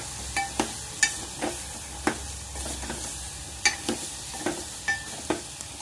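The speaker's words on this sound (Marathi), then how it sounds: "त्याला चांगलं परतून घेऊया।" Drumstick pods (shevga) being sautéed with Maharashtrian homemade masala in a pan, soft steady sizzle broken by repeated scraping stirs of a spoon at an uneven rhythm, close and moderately quiet.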